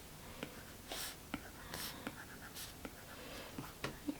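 A stylus scratches and taps across a tablet screen while erasing in Procreate, in soft short strokes and clicks at close range, with faint whispery breathing between them.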